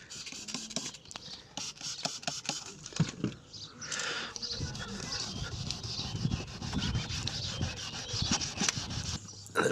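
Wet sanding a hazy car headlight by hand before a Cerakote restoration: steady, close scrubbing and rubbing strokes with a gritty rasp, continuing throughout with brief pauses.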